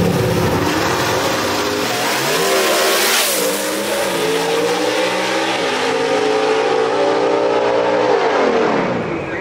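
A 1963 split-window Corvette gasser races down the strip at Knoxville Dragway, its engine roaring loud and continuous as the pitch climbs through gears with a sweeping pass, crowd-level noise behind.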